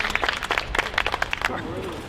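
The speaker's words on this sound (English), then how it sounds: "Let's give another round of applause for Dr. Dorado." An audience claps for Dr. Dorado at a Constitution Day event on a college campus, brisk, fairly close applause that thins out and fades after about a second and a half.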